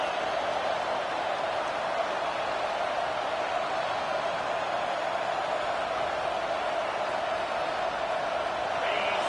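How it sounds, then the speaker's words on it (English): A football stadium crowd roaring during a Texas vs Clemson game, a dense continuous wash of cheering and noise from a large distant mass of fans, steady and loud with no pauses. "This crowd bringing the energy and noise early."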